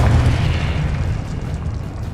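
Confringo blasting spell in Hogwarts Legacy bursts into a heavy, booming explosion, loud and close, with a rumbling tail that fades over two seconds.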